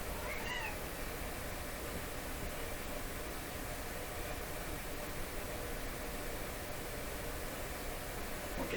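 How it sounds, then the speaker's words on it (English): Pet cats meow to one another indoors, a faint brief call near the start almost buried under a steady, loud hiss and hum that fills the whole stretch. "So my cats call each other."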